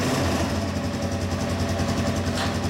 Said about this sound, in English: gonna go ahead and start up the DRZ400S with the Magura and the Rekluse